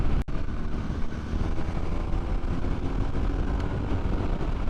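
A 2023 BMW R1250R boxer-engined motorcycle on the move, a steady, loud roar of engine and wind that holds unbroken for the whole stretch, with one sharp click right near the start.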